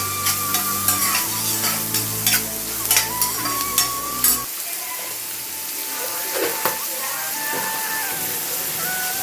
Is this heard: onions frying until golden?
yes